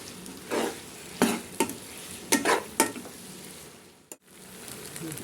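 Wheat pasta being stirred with salt in a frying pan, giving several close scraping, sizzling strokes in uneven rhythm, then a brief pause and a quieter continuing sizzle.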